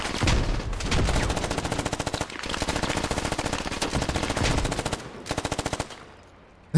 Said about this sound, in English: MG. Gonna return suppressing fire.